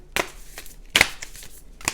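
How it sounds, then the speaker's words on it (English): A new tarot deck being shuffled by hand: three quick papery riffles at irregular gaps, close and fairly soft against a quiet room. "I got a new deck and I'm going to pull a card for you. Let me just shuffle."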